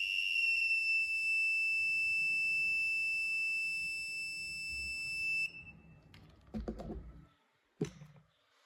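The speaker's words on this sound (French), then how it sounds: "il déclenche une alarme" A K19+ handheld detector sounds a steady, loud, high electronic alarm tone for several seconds as it nears an object. A few soft handling knocks follow once it stops.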